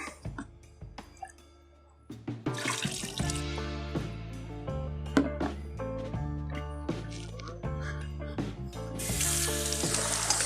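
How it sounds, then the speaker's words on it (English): Cold water runs from a tap into a bucket holding a curing ham, a steady gush that swells and changes tone as the bucket fills, with scattered clinks and knocks. "I'm going to make sure I have cold water on my tap here."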